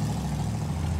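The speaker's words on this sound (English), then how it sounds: "That little 273 engine just moves it around just fine." A 273 V8 engine in a life-size Hot Wheels replica car runs steadily with a deep, low rumble, constant and close throughout.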